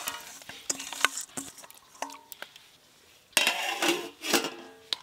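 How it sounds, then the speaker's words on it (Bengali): Washed rice poured into hot water in a pot in a home kitchen and stirred, with sporadic metallic clinks and scrapes of a utensil against the pot, then a louder burst of pouring and sloshing near the end. "জল গরম হয়ে গেছে, এবার চাল দিয়ে দেবো।"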